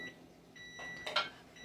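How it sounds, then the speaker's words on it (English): A kitchen timer sounds near the end of cooking cube steak, giving thin, high electronic beeps over a faint background hum, fairly soft and brief. "the timer just went off"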